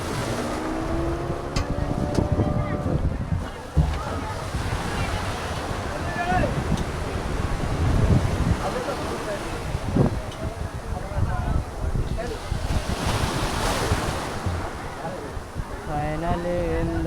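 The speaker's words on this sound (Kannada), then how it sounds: "Finally in the boat. Scent ಮೇರೀಸಿಗೆ ಹೊಂಟ್ವಿ." A boat heading out across the sea from Malpe toward St Mary's Island, its steady motor and wind buffeting mixed with waves, while people talk over the ride.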